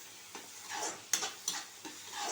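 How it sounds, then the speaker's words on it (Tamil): Onion and tomato sauté in a pan for a millet dosa side dish, a soft, steady sizzle broken by a few stirring scrapes, close but quiet with no voices. "இப்போ நல்லா வெங்காயம் தக்காளி வதங்கிடுச்சு"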